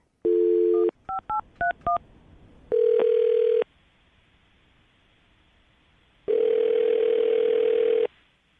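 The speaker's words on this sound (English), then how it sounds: "I'm going to dial the phone number" A telephone plays a steady dial tone, then a quick series of DTMF keypad beeps as a number is dialed, followed by ringback tones sounding loud and close, with no talking.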